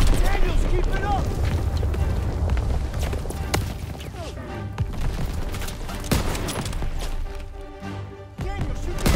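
Gunfire in Call of Duty WWII during a trench assault, dense continuous shooting and booming blasts filling the whole stretch at steady loudness, with voices calling out over the battle.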